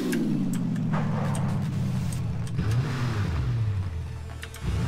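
A vehicle driving in the battle royale video game PUBG, a steady engine drone with pitch shifting up and down as it accelerates and eases off, loud and continuous with no talk over it.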